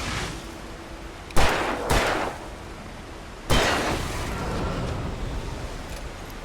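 Gunshots in Alan Wake Remastered: three sharp, loud reports, the first two close together and the third after a pause, each followed by a lingering rumbling tail over low ambient noise.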